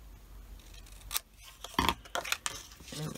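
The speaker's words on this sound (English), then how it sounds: "I'm going to bring in my small scissors because if I use my large ones, it'll be absolutely entertaining. And I'm going to cut just corners out." Small scissors snip the corners off paper for a scrapbook journal, a few sharp crisp cuts spaced irregularly amid quiet handling noise, close and fairly soft.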